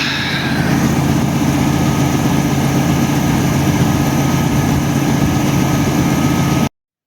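A heavy farm vehicle engine drones loudly and steadily while driving toward the weighbridge after unloading sunflower harvest, a continuous low rumble close up with no talking, ending abruptly.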